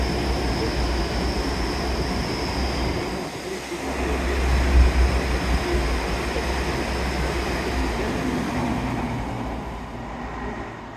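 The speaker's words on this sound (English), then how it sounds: "the noise of the trains coming through" Trains roll through Teignmouth station on a wet, windy day, a broad continuous rumble with rail noise swelling and fading over about eleven seconds, fairly close and loud, with no talking.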